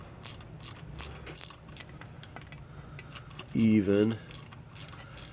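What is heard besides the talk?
1/4 inch micro ratchet snugging bolts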